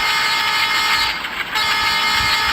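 A train horn sounding on departure from a station, a loud, steady sustained tone heard close up with constant engine noise underneath and a brief dip in the middle, no talk.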